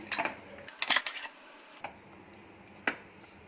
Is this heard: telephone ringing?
no